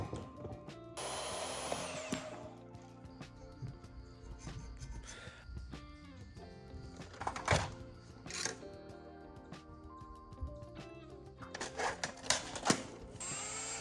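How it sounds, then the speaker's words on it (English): A drill bit bores into metal in a blacksmith's workshop, giving bursts of whining, grinding noise with scraping clatter and brief pauses between runs, fairly close but moderate in level. "when you're drilling into metal, if the drill bit is squealing high-pitched, you're probably running it too fast"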